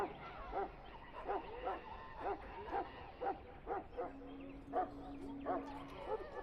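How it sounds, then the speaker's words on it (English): Mabari war hound barking in Dragon Age Origins, a run of short, evenly spaced yips and barks, moderately close, repeating steadily over a low steady tone with faint background ambience. "I fear your hound has the kitchens in uproar once again"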